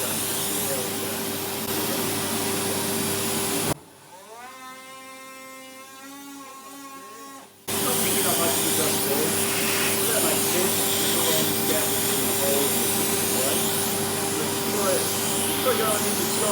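A Ryobi multitool fitted as a vacuum whirs on, its high motor whine holding steady for about four seconds between stretches of loud, continuous broadband roar.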